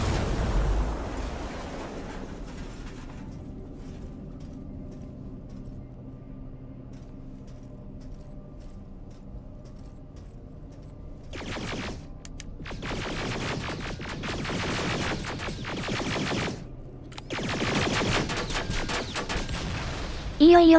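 A hacked turret in Terminator: Resistance opens fire on a T-800 in long, rapid bursts that crackle and rattle after a quieter stretch of low ambient hum.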